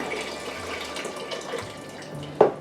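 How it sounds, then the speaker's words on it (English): Brewed tea is poured into a container of dissolved sugar water, giving a steady close trickling splash with a small clunk near the end. "I can now add in the tea and just pour it right in there"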